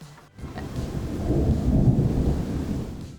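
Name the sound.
thunder during a thunderstorm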